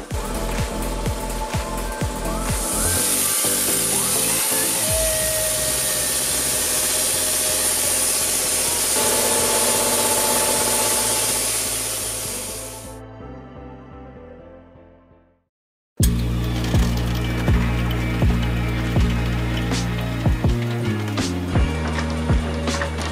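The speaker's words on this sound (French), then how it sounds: "je suis en train de mélanger le liège avec un mélangeur pour pas que ça sèche" A mixer churns cork mix continuously so it won't dry before being sprayed as van insulation, a loud steady grinding wash that fades out, a brief silence, then clattering, knocking work noise.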